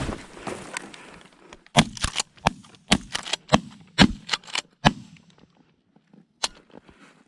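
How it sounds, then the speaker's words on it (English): Shotguns fire repeatedly at geese flying overhead during a North Dakota goose hunt, a rapid volley of sharp, loud blasts clustered in the first five seconds, then one more lone shot after a quiet pause. "Shoot them as they fly over."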